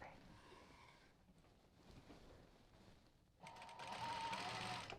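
A sewing machine back-stitching the seam of a drawstring backpack. A quiet stretch gives way to a burst of fast, steady, whirring stitching near the end, close and moderately loud.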